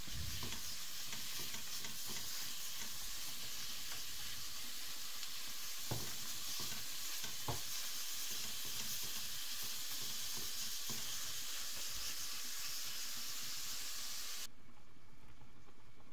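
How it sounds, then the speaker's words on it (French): Minced meat sizzles steadily in a hot pan while being stirred, a continuous crackling fry with occasional scrapes and clicks of the utensil, close and moderately quiet, no talking. "On vient rajouter notre viande hachée."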